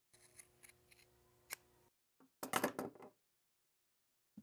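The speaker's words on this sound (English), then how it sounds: "We'll take our scissors and cut parallel to the stitch line." Scissors cut through fabric strips parallel to a stitch line, giving a few light snips and then a louder burst of close, crisp crunching blade cuts between quiet gaps.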